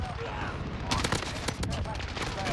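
M4 assault rifle firing in the video game Modern Warfare: rapid bursts of automatic gunfire over a dense, noisy game mix, with steady loud shots through most of the moment.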